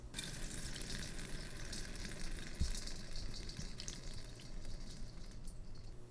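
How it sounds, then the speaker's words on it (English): A pot of water with rice in it at a steady rolling boil, giving a continuous dense bubbling and hissing with small pops, close and moderately loud, with no talk. "Yeah, actually it is boiling."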